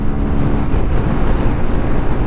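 Suzuki Gixxer fuel-injected motorcycle engine pulling steadily in fourth gear while riding, a loud continuous low drone mixed with rushing wind, with no pauses across the stretch.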